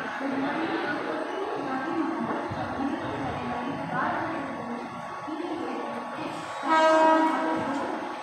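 A Mumbai local train sits at a station platform with a steady rumbling engine hum and background crowd chatter, and a loud horn blast sounds near the end.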